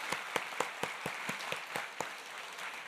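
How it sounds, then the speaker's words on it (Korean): A church congregation claps in tribute to fallen patriots during a worship service, a quiet, somewhat distant round of applause with a handful of distinct claps standing out from a soft background. "우리 이런 선열들에게 큰 박수로 우리 경의를 표하겠습니다."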